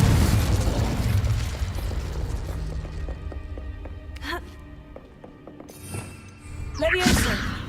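In the Hogwarts Legacy video game, a Confringo explosion spell bursts with a loud, rumbling boom that slowly fades, followed by a few smaller thuds and crackling pops, with game sounds continuing.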